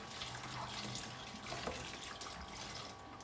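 Tap water runs steadily into a sink while a baby bottle brush is rinsed, a soft continuous splashing stream at moderate distance with no talking.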